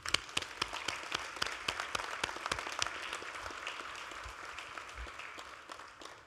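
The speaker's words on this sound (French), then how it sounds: "Donc je pense qu'on peut aussi également les applaudir." An audience at an annual event applauds, a fairly distant round of clapping with sharp individual claps standing out early before it gradually thins and softens.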